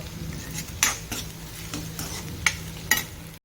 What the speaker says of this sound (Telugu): ఉల్లిపాయలు వేసేస్తున్నా. ఇవి మంచిగా వేగాలి.